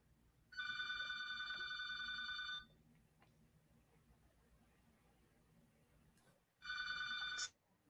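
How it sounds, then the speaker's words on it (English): A telephone bell ringing indoors in two loud bursts, a long trill of about two seconds followed by quiet room tone and a shorter second ring, with no talking. "I don't know why that phone is ringing"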